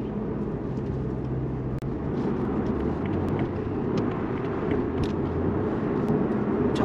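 BMW 540i turbo engine pulling steadily at highway speed, a continuous low drone with road and wind rumble inside the cabin, even and sustained throughout.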